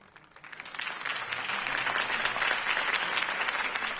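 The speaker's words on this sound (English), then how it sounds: "heard that applause" A crowd in the video game Batman: The Telltale Series bursts into applause, swelling from a light patter into steady, sustained clapping and cheering that carries on without letup.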